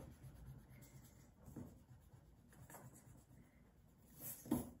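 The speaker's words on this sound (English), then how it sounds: "Now I'll rub out the pencil." Pencil lines being rubbed out with an eraser on paper, heard as faint, close, soft scratchy strokes in uneven bursts, growing a little louder near the end, with no one speaking.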